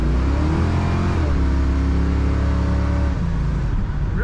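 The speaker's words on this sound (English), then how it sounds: "Really fun to accelerate in this car." A 1962 Plymouth Belvedere two-door post sedan accelerates, its engine a loud, steady drone with rising pitch that shifts gear near the end, heard from inside the car with no talking.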